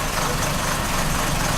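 A PT Cruiser engine idles after a crankshaft position sensor replacement, new plugs and vacuum leak repairs, a steady, loud, even rumble heard close up with no talk.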